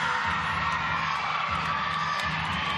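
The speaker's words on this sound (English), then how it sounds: "A well-deserved cheer from her teammates there" Teammates cheer and whoop after a gymnast's routine at a BYU college gymnastics quad meet, a bright sustained burst of crowd shouting and cheering at moderate distance.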